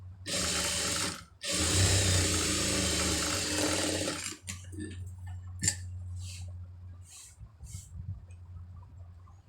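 A sewing machine stitches a blouse lining, a loud fast rhythmic whir in two runs with a short break between, followed by quieter ticking, handling clicks and faint intermittent sounds.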